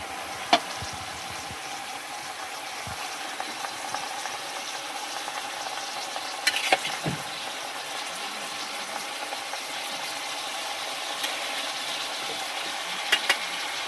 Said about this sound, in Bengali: মটন দিচ্ছি এখন। এই যে মটনগুলো, মটন দেওয়া হয়ে যাচ্ছে, দেখতে থাকেন।